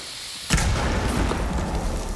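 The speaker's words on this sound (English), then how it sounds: "And there is the first bit of an explosion." An explosion in an esports video game match: quiet background, then a sudden loud blast that sustains as a rumbling, crackling roar for over a second, with no voices.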